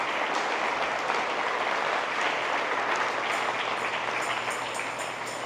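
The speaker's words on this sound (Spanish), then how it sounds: "Si quiere aplaudir al Señor, apláudale." Church congregation applauds during a sermon, a steady, fairly distant wash of many hands clapping that holds evenly throughout without a break.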